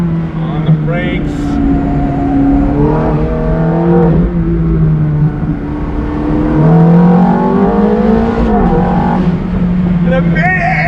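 A mid-engine 2005 Ferrari F430 Spider revs hard and rises through the gears, dropping back on downshifts under braking, with someone talking over the steady roar.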